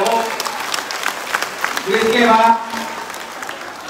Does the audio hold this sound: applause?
yes